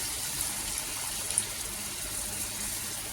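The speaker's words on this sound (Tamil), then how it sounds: "நான் புளி கரைச்சி வச்சிருந்தால அந்த புளி தண்ணி ஊற்றுறேன்" Tamarind water poured into a pan for fish curry, a steady watery gush and splash running the whole stretch at moderate level with no speech.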